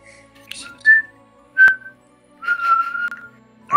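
Someone whistles into a call in short, separate bursts: a few brief high notes, then a longer sustained whistle near the end, with quiet gaps between them and no talking.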